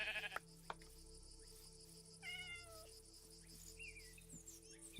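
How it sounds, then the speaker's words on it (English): A sheep in the Minecraft video game gives a couple of short, faint bleats over quiet in-game ambience with cricket-like chirps and small clicks, with no talk. "Come here, you little sheep."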